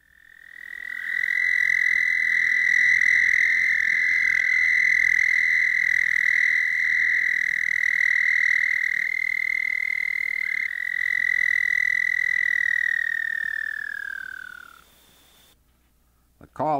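Single Bufo punctatus toad giving one long, loud sustained trill that stays even, then tapers and drops off at the end as if running down, heard alone.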